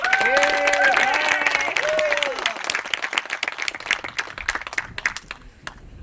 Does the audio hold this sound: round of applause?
yes